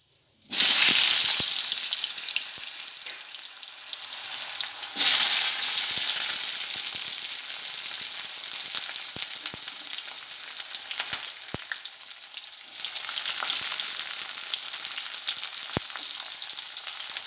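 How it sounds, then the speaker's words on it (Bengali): Potato and onion tossed into hot oil in a pan: a loud burst of sizzling when they land, a second surge a few seconds later, then a steady, continuous frying hiss. "ভাজা হয়ে গেলে এবার আমি আলু আর পেঁয়াজটা এর মধ্যে ছেড়ে দেবো"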